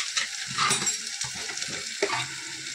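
Ginger garlic paste hits hot oil in a pan for a Malvani kaleji (liver) masala, giving a steady close sizzle with a few stirring scrapes and light clinks.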